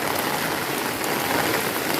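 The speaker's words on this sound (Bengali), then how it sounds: "বাইরে বৃষ্টি তো থামার নামই নিচ্ছে না" Heavy rain pours down outside during a storm, a dense, even, continuous hiss of drops hitting surfaces with no pauses and no talking.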